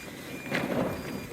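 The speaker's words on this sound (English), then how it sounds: "And the old anchor alarm going like that every 5 seconds." A boat's electronic anchor alarm sounds as the boat heads out to sea from Port Stephens, a thin steady beeping tone over wind and engine noise, faint rather than loud.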